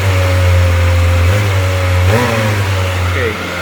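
A Kawasaki Ninja ZX-25R motorcycle engine revs loudly and close in a high, buzzing drone with rising and falling pitch sweeps, while someone talks over it.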